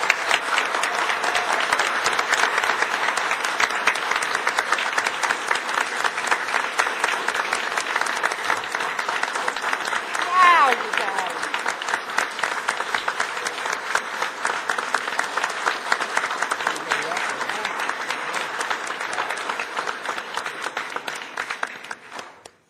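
Sustained audience applause fills a Bartlett village board meeting as residents cheer a local sports team's season, steady dense clapping from a roomful of people lasting over twenty seconds before fading out at the end.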